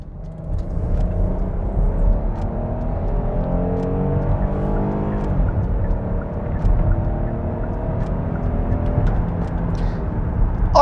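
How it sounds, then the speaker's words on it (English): Kia Carnival minivan accelerating hard up a freeway on-ramp in sport mode, its engine droning and rising steadily in pitch under constant road and wind rumble, loud and continuous throughout. "let's do this quick on-ramp on the freeway and see how it accelerates"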